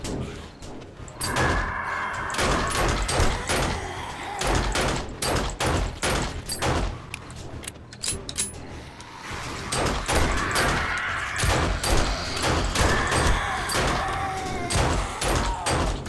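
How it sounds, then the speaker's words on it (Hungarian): Rapid gunfire in the survival video game 7 Days to Die, with dense bursts of sharp shots fired repeatedly throughout, loud and close, some blending into rattling volleys. "Próbált fejmagasságba lövöldözni."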